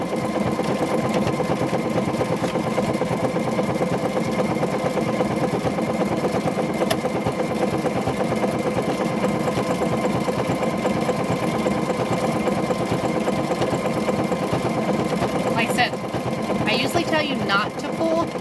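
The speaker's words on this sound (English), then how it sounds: "we've now figured out how to do sew with this" A sewing machine runs steadily for the whole stretch, stitching shelf lining into a car seat cover. The motor whirs loud and close without a break, and a few short clicks come near the end.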